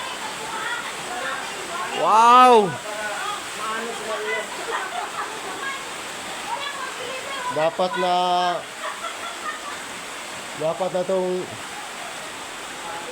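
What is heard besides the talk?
heavy rain pouring on a house with a nipa roof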